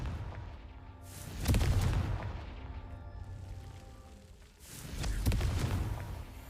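Two heavy booming blasts of the Confringo explosion spell in Hogwarts Legacy, a few seconds apart, each rumbling and fading out slowly.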